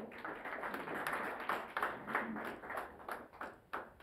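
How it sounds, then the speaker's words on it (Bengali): Applause from an audience at an Agrani Bank PLC Rajshahi Circle award ceremony, a steady wash of many hands clapping at moderate distance for about four seconds, with a few sharper individual claps standing out near the end. "আমরা সকলেই করতালি দিয়ে শুভেচ্ছা জানাবো"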